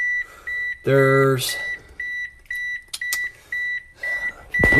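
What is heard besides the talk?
car beeping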